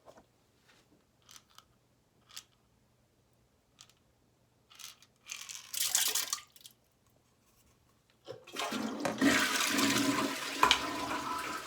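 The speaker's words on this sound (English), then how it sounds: "And I flushed them all down the toilet" A household toilet flushes up close, a loud rushing surge of water that follows a few faint clicks and brief splashes.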